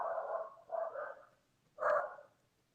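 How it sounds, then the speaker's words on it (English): Dogs let out a few close barks, two quick woofs followed after a pause by one sharper, louder bark, with no voices present. "That's my dogs."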